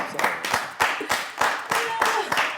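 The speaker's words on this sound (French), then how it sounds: "Vous avez applaudi." An audience on the French show La Poz claps in unison, a brisk, steady beat of sharp, close claps about three per second that fills the room.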